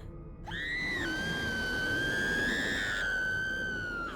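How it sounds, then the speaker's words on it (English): A woman lets out a sustained, piercing scream in the video game What Remains of Edith Finch, rising sharply and holding a bright tone for several seconds, loud and alone with no talk over it. "Oh, scream."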